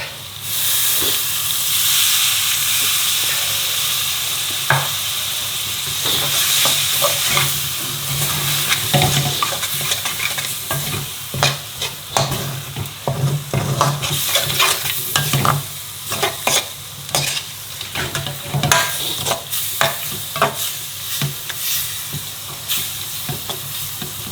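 Chopped tomatoes frying for a phaal chicken curry, a continuous hissing sizzle broken by frequent sharp scrapes and clatters of stirring, close up and steady throughout with no voices.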